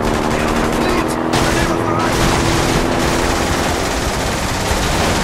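Rapid machine-gun fire in The Saboteur, a dense, loud, continuous fusillade with a vehicle engine rumbling underneath and a few heavier bursts.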